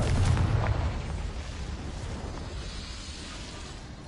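A Confringo blasting spell goes off in Hogwarts Legacy with a deep, heavy boom that rolls out into a long rumbling decay, close and loud, with no talking over it.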